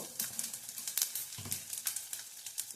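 Mustard seeds go into hot oil for amla chutney and splutter with irregular sharp pops and crackles over a soft sizzle, close up and fairly quiet.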